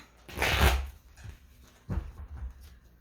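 Playing cards are shuffled in two close riffling bursts, the first longer and louder, separated by a quiet pause.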